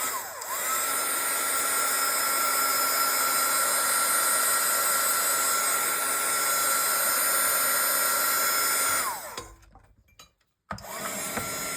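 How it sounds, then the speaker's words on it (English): A loud, steady high-pitched whine of a hot-air power tool drying paint runs continuously for several seconds, then cuts off abruptly and briefly restarts. "I'm bringing out my power tool."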